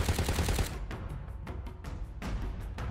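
In the video game Shadowgun War Games, a rapid automatic burst of SMG fire comes first, then several more separate volleys of shots, close and loud.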